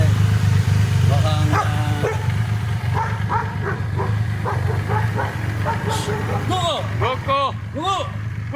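A Belgian Malinois mix dog barks and yips several times in quick bursts, close by, over a steady low engine rumble with a person talking nearby.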